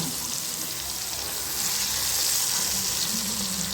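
Food sizzling steadily in a pan of hot oil as it is flipped over, cut to medium thickness; a continuous bright crackle that swells slightly partway through, close and alone with no talk.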